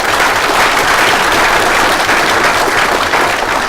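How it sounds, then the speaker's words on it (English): A crowd at an August 2017 swearing-in ceremony gives a round of applause. The clapping is loud, dense and continuous, filling the whole stretch without any talk. "Please give her a round of applause."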